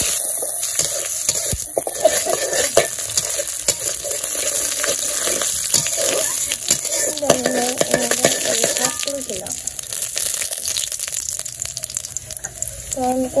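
Steady oily sizzle and stirring of cumin and ginger paste frying in a pan in a village kitchen, continuous and close, with faint scraping throughout.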